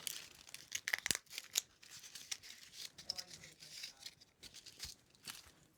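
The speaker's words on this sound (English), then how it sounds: "I'm going to snip this extra off as well." Scissors snipping off excess material while a hat frame is built, a few quiet, crisp cuts mixed with crinkling and rustling of the material, faint and close.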